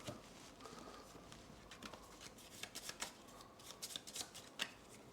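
A deck of cards shuffled during a tabletop board game session, giving a close series of crisp riffling and snapping bursts that come and go across the whole stretch, with no talking.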